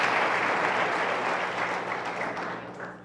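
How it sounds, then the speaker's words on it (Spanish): A church congregation claps in praise for the Lord, a dense, steady burst of applause that stays loud and full before easing off slightly at the end. "De palmas al Señor, hermano."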